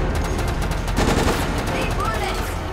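Rapid automatic gunfire crackles close behind the player in Resident Evil: Operation Raccoon City, a dense steady burst of repeated shots running through the whole stretch.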